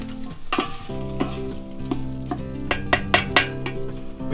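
Wild boar meat for a Hungarian stew sizzles with onions and paprika in a stew pot, close and steady frying broken by several sharp stirring clatters toward the end.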